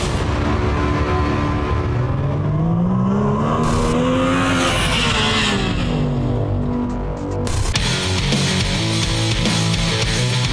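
A loud, high-revving 2016 Yamaha YXZ1000R sport side-by-side with a three-cylinder engine drives past with a rising, shifting whine, tires skidding briefly before the roar settles into steady acceleration.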